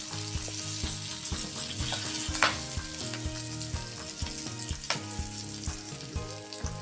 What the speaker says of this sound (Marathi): छान होऊ द्यायचा कांदा याच्यात